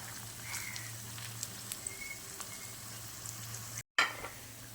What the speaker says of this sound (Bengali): মিডিয়াম আছে আমি উল্টে পাল্টে পকোড়াগুলো ভেজে নেবো